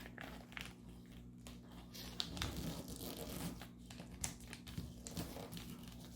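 A bag being folded by hand, giving soft, close crinkling and rustling in irregular bursts, quiet and alone.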